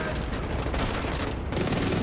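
Rapid, continuous automatic assault-rifle fire in the video game The Division 2 rattles loudly and without pause, the dense burst of shots dominating the whole moment.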